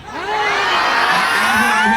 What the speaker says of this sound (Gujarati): જોરદાર તાળી થઈ જાય બા માટે